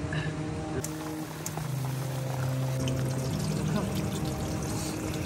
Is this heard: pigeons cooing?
no